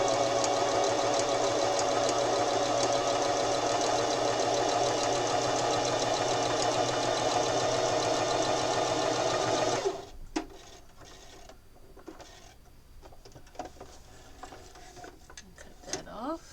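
A sewing machine runs a straight stitch on a quilt at stitch length 2.5, its fast, even mechanical whir loud and steady for about ten seconds before stopping abruptly, followed by quieter handling clicks.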